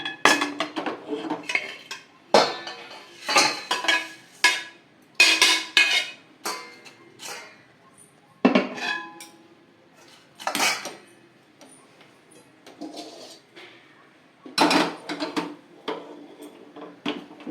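Roasted paddy puffed rice is tipped from a pan into a vessel, producing close bursts of rattling, clinking metal and grainy spills in irregular clusters separated by quiet gaps, with no talking.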